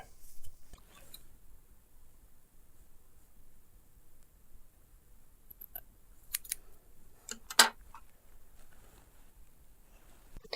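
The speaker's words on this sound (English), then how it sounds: "I just gotta trim this side up just a little bit." Small scissors snip at a mustache in a quiet room, faint scattered cuts with a few sharper, closer snips clustered late.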